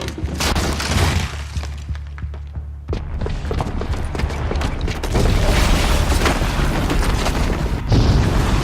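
A bomb booby trap goes off in Horizon Zero Dawn, a heavy boom with shattering and crashing debris, loud and close, followed by sustained rumbling and clatter that continues without talk.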